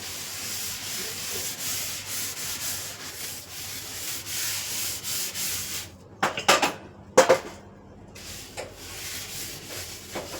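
A metal kadai is scrubbed and wiped clean in a village home, with a close, steady rasping rub followed by a few louder scraping strokes and clinks before the rubbing resumes.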